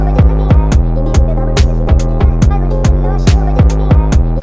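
Compressed synth lead with fast attack and release, playing a punchy repeating pattern of short notes with sharp transients over a heavy low end, loud and steady, no voices.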